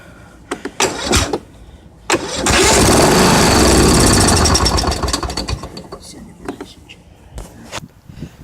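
An old lawn mower engine, primed with gas squirted into the cylinder and carburetor, fires up with a loud sustained roar for a few seconds before sputtering out, with scattered handling clatter and noises around it.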